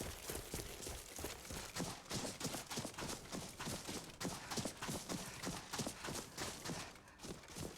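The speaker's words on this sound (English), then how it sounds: "No, don't run this way, horsey." Horse running in Skyrim, a fast rhythmic run of hoofbeats thudding steadily and fairly close throughout, with no voices over it.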